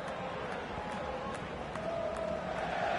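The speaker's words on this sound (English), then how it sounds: "Well, the crowd have reacted to this effort the players are putting in." A stadium crowd in a PS4 football video game roars steadily, a constant distant wash of cheering that swells slightly toward the end, with faint whistle-like tones over it.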